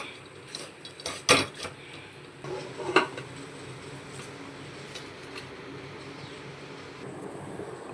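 A utensil scrapes and clinks against a pan while tomatoes are mashed in oil with salt for a Chettinad mutton curry, with a couple of sharp metallic knocks early and then soft, steady stirring and sizzle.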